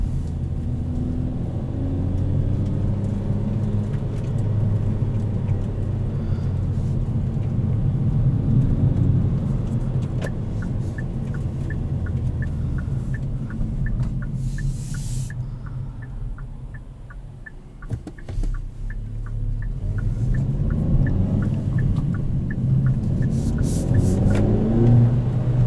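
A 2021 Kia Forte GT with a manual gearbox driving and accelerating, its engine droning and rising through revs with a steady road rumble heard from inside the cabin, with no talk.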